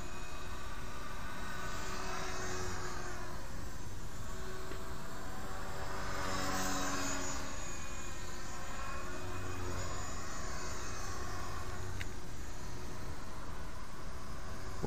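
An HK 450 RC helicopter flies close by with a continuous whining motor and rotor drone that rises and falls in pitch as it maneuvers, carrying on for the whole stretch with no talking.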